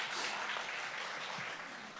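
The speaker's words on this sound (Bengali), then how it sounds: "তোমাদের জন্য করতালি" Steady applause from a quiz show audience rewarding contestants for a correct answer in an Islamic quiz, a dense, even wash of clapping at moderate level throughout, with no talk over it.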